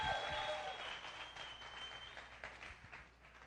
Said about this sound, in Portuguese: Aplaude Jesus aí, só para a gente quebrar o gelo